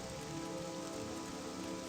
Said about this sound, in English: Now it's raining on it.